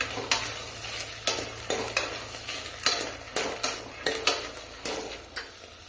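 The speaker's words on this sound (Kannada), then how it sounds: "ಇದು 1 5 ನಿಮಿಷ ಫ್ರೈ ಮಾಡ್ಕೊಳ್ತೀನಿ" Field beans (avarekalu) fry in plain oil over a low flame, a soft hiss broken by regular sharp scrapes and clinks of a spoon against the pan, roughly two strokes a second, close by.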